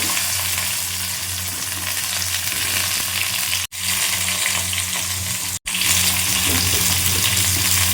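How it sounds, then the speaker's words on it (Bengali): Vegetables — potato, pointed gourd and tomato — dropped into a hot pan of sizzling dried red chili and bay leaf tempering, giving a loud, steady frying hiss broken by two brief silences. "শুকনো লঙ্কা তেজপাতা ফোড়নটা একটু পোড়া পোড়া হোক তার মধ্যে আমি সমস্ত সবজিটা আস্তে আস্তে দিয়ে দেবো"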